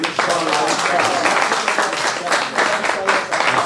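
Audience applauding at an artistic café event, dense, lively clapping that stays steady and close for a few seconds.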